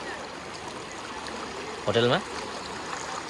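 Floodwater runs through the streets of Sauraha, Chitwan, after heavy rain, a steady close rushing flow, with a short burst of speech cutting in midway.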